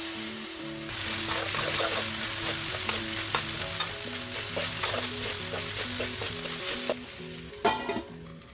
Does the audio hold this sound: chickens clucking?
no